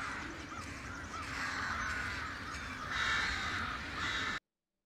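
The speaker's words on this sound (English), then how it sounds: "Need them crows out there?" Crows caw repeatedly outdoors in a television drama scene, several harsh calls overlapping at moderate distance over a steady ambient background, no talking.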